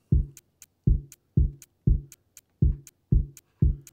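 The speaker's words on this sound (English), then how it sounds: "And when you add that in, it kind of sounds like a little hi-hat." Harp pitch levers clicking in a steady rhythm, about seven crisp ticks with a low thump beneath each and a bright, hi-hat-like top, close and alone with no voices.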